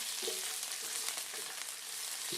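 Steady, close sizzling and frying of food browning in a pan, a continuous crackling hiss with faint stirring, no talk.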